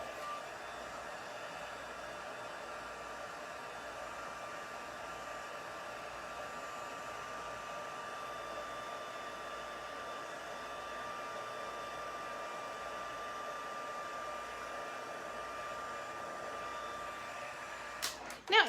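A heat embossing gun blows hot air over embossing powder, a steady close whooshing drone that holds unbroken for a long stretch before a brief clatter at the end.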